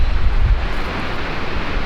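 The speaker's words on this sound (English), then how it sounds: "Very windy." Steady, loud wind buffeting a microphone outdoors at sunset, a continuous low rumble with gusty swells and no speech.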